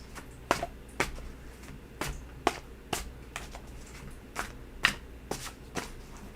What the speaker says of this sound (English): So we are both going to give it a shuffle for this.